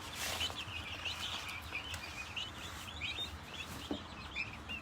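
Bronze turkeys on a farm give faint, scattered high chirps and calls over a steady, soft outdoor background, with one brief louder call near the end.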